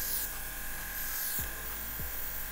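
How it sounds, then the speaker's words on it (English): A small battery-powered airbrush runs as a steady, fine buzzing hiss that lasts throughout, with a faint hum beneath it and two short low thumps near the end. "that's an airbrush."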